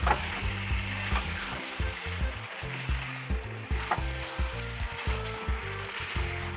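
Young goat mutton being stir-fried village style in a pan, a broad sizzle with repeated scraping stirs and uneven bursts, close and moderately loud, no voices.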